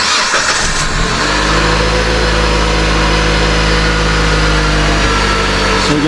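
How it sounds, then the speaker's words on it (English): A 2007-17 Jeep Patriot engine cranks briefly and catches, then settles into a loud, steady close-up idle with a low hum that runs to the end. "then you're going to want to start up your vehicle"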